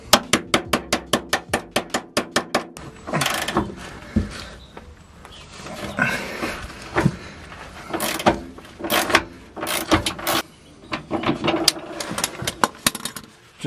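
A bolt is undone on a Vauxhall Vectra C during a gearbox replacement: a fast, even run of sharp ratchet clicks, then irregular bursts of metallic clatter and tool noise, close and alone.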